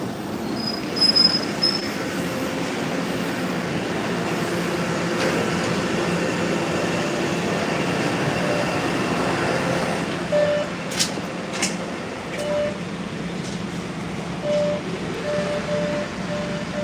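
An MBTA Red Line Ashmont subway train running, a steady rolling rumble with intermittent wheel squeals and brief sharp metallic screeches partway through.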